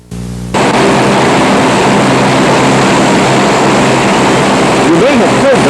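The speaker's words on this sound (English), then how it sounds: "6 C-130 cargo planes and 4 A-10 fighters flying out of Martin State Airport" C-130 cargo planes and A-10 fighter jets flying overhead out of Martin State Airport, a loud, continuous roar of engines and propellers that fills the clip after a sudden start.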